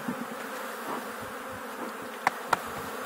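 Honeybees hum steadily at close range during installation of a new colony, a continuous low buzzing drone with two sharp clicks near the end.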